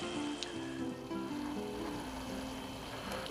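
Shrimp sizzling in a Lodge carbon steel paella pan over an open fire outdoors, a steady broad crackling hiss with faint background hum and occasional small pops.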